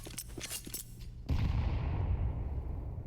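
Grenade thrown into apps on Mirage in Counter-Strike: a few faint clicks and pops, then a sudden loud blast with a rumbling, noisy tail that lasts to the end.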